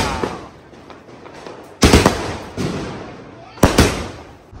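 Two sharp, loud firecracker bangs burst close by about two seconds apart during Diwali, each crackling briefly before fading into the murmur of people outdoors.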